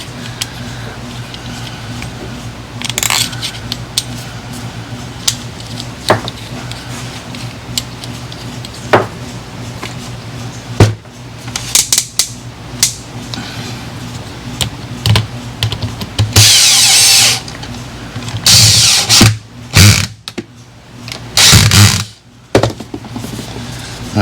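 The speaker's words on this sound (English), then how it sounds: "Now we just put the bolts back in." Bolts go back into a rebuilt starter motor, giving scattered small metallic clicks and taps, then a few louder scraping and clattering bursts near the end over a low steady hum.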